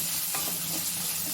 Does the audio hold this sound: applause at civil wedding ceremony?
no